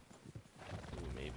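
A horse in Red Dead Redemption 2 online free roam neighs and its hooves clop in quick, close beats, with a low voice murmuring underneath.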